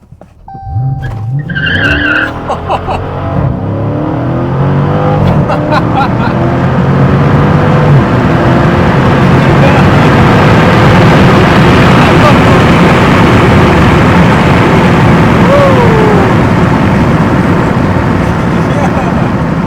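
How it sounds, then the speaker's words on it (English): A Dodge Challenger SRT 392 makes a full-throttle launch with its tires peeling: a loud, close engine roar rises and holds with sustained tire squeal and skidding for most of the clip. "I heard the tires peeling up though."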